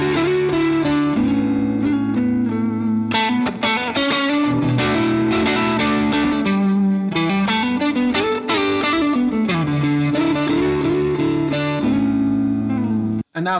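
Distorted electric guitar strums a sequence of sustained chords with effects and reverb, loud and continuous, changing chord every couple of seconds.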